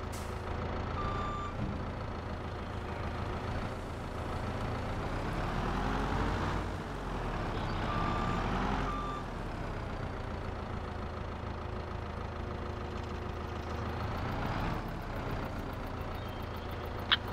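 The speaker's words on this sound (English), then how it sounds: "the dump truck will take it and dump it into our rock pit" Dump truck in Farming Simulator 22 reversing: a steady series of backup beeps repeating over a low diesel engine rumble, with a brief air-brake hiss, loud and close, no talk.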